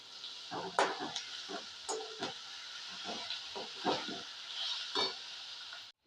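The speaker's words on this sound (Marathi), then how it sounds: "कोथिंबीर टाकल्यानंतर त्याला छान असं मस्त पूर्ण एकत्र करून घ्यायचं" Coriander vadi mixture being stirred in a pan, a soft scraping and mixing rhythm of irregular strokes over a steady hiss, close by with no talking.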